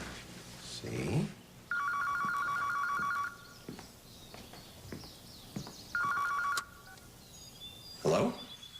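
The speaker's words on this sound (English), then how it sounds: "that phone's going to ring any day now" A telephone rings twice in a home, two long electronic trills a few seconds apart, with faint background sounds and brief noises between rings.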